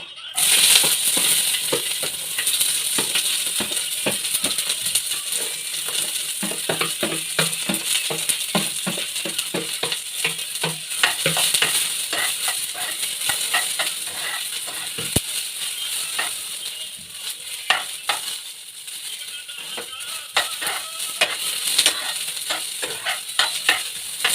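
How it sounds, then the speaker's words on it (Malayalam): Okra, chilli and onion frying in a pan, a continuous close sizzle with frequent scraping and stirring clatter from a spatula, steady and fairly loud for the whole stretch without talk. "വെണ്ടക്ക, മുളക്, പിന്നെ ഉള്ളിയും കൂടി നമുക്ക് ചേർത്ത് കൊടുക്കാം."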